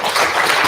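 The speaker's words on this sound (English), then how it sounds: "How about another round of applause for Red Dawn here?" Audience applause at the Lakota Media Summit, a short, steady burst of dense clapping from a crowd, even in level throughout with no voices standing out.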